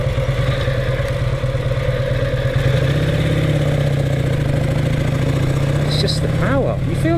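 A 1938 Vincent Series A Rapide motorcycle engine drones loudly and continuously while being ridden, with a low throbbing rumble that lifts slightly in pitch partway through and stays close throughout.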